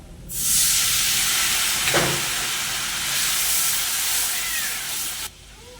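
Water poured into frying spice masala for a soybean and egg curry hisses into a loud, steady sizzle that holds for about five seconds, then cuts off abruptly.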